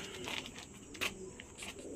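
A pigeon coos softly in a couple of short, muffled bursts, faint and fairly close, over quiet background.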